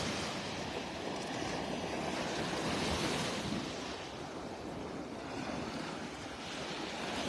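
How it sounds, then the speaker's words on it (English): Rough ocean surf rolls steadily onto a beach in North Naples, Florida, a continuous broad wash of breaking waves with some wind noise and no voices. "The surf is definitely a little rougher than it has been over the past, 4 or 5 days."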